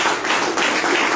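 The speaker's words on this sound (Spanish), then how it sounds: "Denle un fuerte aplauso a nuestro Dios" Dense, continuous clapping from a congregation fills a church service, a broad crowd applause sustained evenly for about a second with no voices over it.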